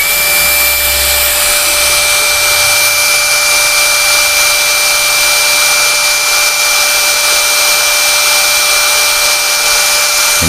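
A DCK KDJZ2060i cordless drill runs continuously at speed setting 1, giving a loud, steady, close high-pitched whine with an even motor hum and no change in pitch, no talking over it.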